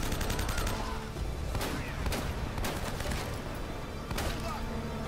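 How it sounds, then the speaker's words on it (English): Enemy gunfire in the video game Uncharted: Drake's Fortune, dense rattling bursts with several sharper shot cracks standing out, loud and continuous over game noise, with a player talking over it. "Navarro, he does 3 shots, and then he stops to reload"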